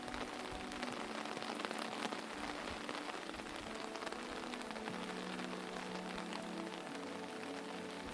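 Gentle rain falls steadily on a forest, a continuous soft patter of drops on surfaces, even and unbroken throughout.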